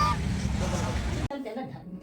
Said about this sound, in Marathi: हे आहेत टर्की आहेत